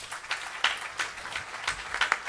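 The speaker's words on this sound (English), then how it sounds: "Would you give him a round of applause?" An audience at a gurukula gathering claps in a round of applause, uneven bursts of hand claps that rise and fall, moderately quiet and heard on their own.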